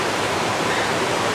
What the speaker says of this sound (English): So you can see the water stream, it's very strong in the current